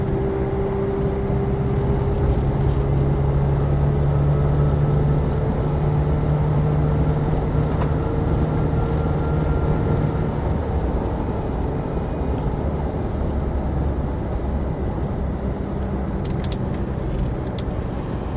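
A Land Rover Defender 90 CSW with the 300TDi diesel engine driving on a road, heard as a steady loud interior drone with low engine hum and road roar that holds constant throughout, no voices.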